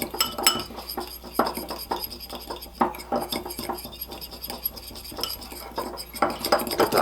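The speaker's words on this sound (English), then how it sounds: "1/2 teaspoon of salt, and 1/4 teaspoon of black pepper. And we're just going to mix this together here." A spoon clinks and scrapes around a bowl while salt, black pepper and oregano are stirred together for chicken fajitas, a busy close run of metallic taps and scrapes with no speech.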